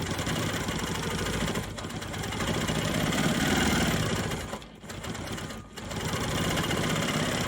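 A sewing machine free-motion quilting circular in-and-out motifs with gray thread on a maple leaf block, a steady close mechanical whirr with two brief pauses.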